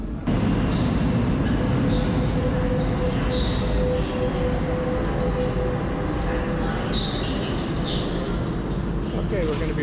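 A constant heavy rumble of a metro train fills an underground station in Lisbon, loud and enveloping, with faint screeches and a rising hum as it draws in.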